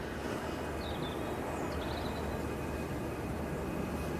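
A steady, broad roar of an easyJet jet at Manchester Airport holds at an even level throughout, with faint bird chirps above the rumble.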